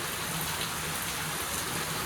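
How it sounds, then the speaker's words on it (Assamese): Heavy rain pours down in a dense, unbroken hiss, steady and loud throughout with no voices. "বৰষুণটো ইমানে ডাঙৰকৈ দিছে দেখিছেনে"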